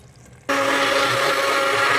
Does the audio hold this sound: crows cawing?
no